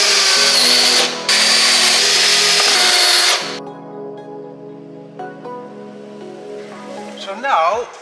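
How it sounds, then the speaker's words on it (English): A power drill bores out spot welds on the rusted body panel of an Opel Kadett GSI under restoration: a loud, close, steady whine with a brief pause, then a quieter lingering hum and faint rattling. "Just start drilling,"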